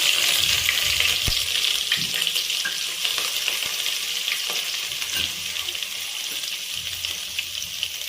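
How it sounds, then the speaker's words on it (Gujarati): Grated ginger fries in hot oil in a pan for a Jain Italian pasta sauce, a dense, bright, continuous sizzle with a few faint stirring knocks underneath. "હવે આપણે એક તપેલામાં તેલ મૂકી દઈશું આપણું તેલ સરસ ગરમ થઈ જાય એટલે આપણે તેમાં આદું એડ કરી દઈશું"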